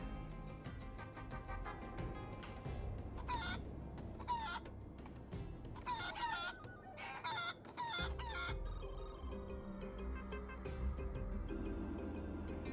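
Chickens cluck and a rooster crows in a video game, with repeated bursts of clucking and crowing set over steady game music and background sound, fairly faint overall.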